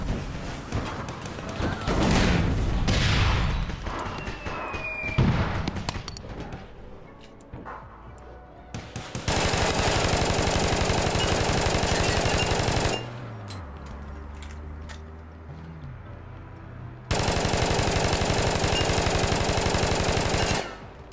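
Loud automatic gunfire in a shooting video game, with scattered shots and impacts early on, then two long sustained full-auto bursts separated by a quieter lull, no talking.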